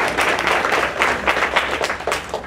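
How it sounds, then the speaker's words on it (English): A roomful of people applauding themselves at a humor and stress talk, loud, close, irregular clapping that swells and stays busy for a couple of seconds. "Give yourselves a nice round of applause."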